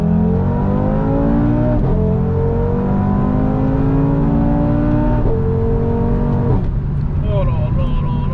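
An Audi RS3 tuned to Stage II accelerates hard on a wet road in Réunion, its engine note climbing steadily through the revs with gear changes, loud and close from inside the car.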